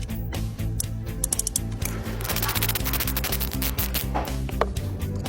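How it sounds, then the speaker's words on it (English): Screws being loosened on a car's camshaft solenoid valve during a no-start repair, a steady close-up rubbing and scraping with small ratcheting clicks over a dense, continuous mechanical hum. "then loosen the screws"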